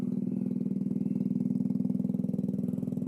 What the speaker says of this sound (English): Little bike's fired up, so we're going to let it sit there and run for a few minutes